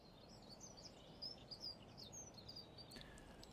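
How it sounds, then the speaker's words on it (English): Faint birds chirp and tweet in short scattered calls within the Train Sim World video game, sitting over a soft, steady ambient background with no talking. "We're just going to stay here and listen to the birds."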